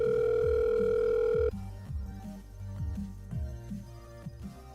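A telephone dial tone hums loudly and steadily for over a second as a number is called, then drops away into quieter background music.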